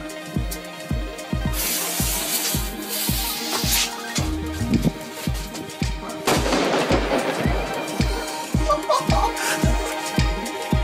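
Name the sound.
aerial assault fireworks going off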